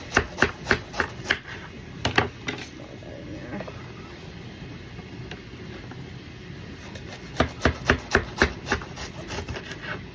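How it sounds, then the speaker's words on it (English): Lettuce chopped with a knife on a cutting board, quick bursts of rhythmic thudding cuts at the start and end with a quieter pause between, close and clear. "Let's go ahead and chop up some more of this lettuce."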